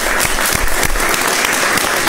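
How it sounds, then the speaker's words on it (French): A studio audience on a midday Malian TV broadcast bursts into dense, loud applause that fills the whole moment, a continuous wash of many hands clapping. "j'aimerais que vous fassiez un tonnerre d'applaudissements pour vous"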